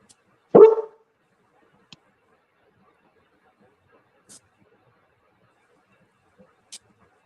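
A dog lets out one loud, sharp bark indoors, followed by near silence with only a few faint clicks and thumps.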